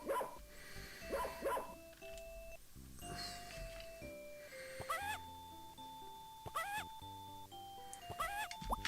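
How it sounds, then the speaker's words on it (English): Electronic dog barks from a plug-and-play educational video game, a few short synthesized yelps scattered between chiming tones and simple game jingles, fairly loud with no talking. "That's definitely a dog."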